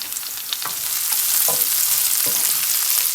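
Green chillies sizzle steadily in a hot pan for a Kerala-style prawn roast, a continuous close frying hiss with small crackles and no talking.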